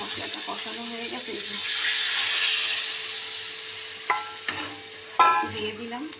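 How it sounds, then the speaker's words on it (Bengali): Spice paste (masala) frying in oil in a pan gives a continuous close hiss that swells midway, with a few scraping stirs and clicks near the end; a voice speaks faintly underneath. "মশলা জ্বালাচ্ছে, তেল ছেড়ে ছেড়ে গেছে, মশলাটা কষানো হয়ে গেছে।"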